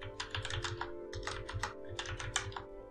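Rapid keystrokes on a computer keyboard, a close, steady clatter of individual taps in quick bursts over a faint background hum.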